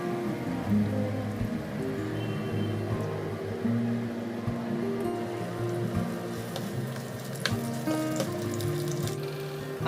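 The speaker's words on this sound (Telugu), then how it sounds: "ఆయిల్ హీట్ అయ్యాక కట్ చేసి పెట్టుకున్న ఆనియన్స్ పచ్చిమిర్చి కరివేపాకులను వేసి వేయించుకోవాలి" Onions, green chillies and curry leaves frying in hot oil for a quick chicken curry, giving a steady, dense crackling sizzle with scattered sharper pops throughout.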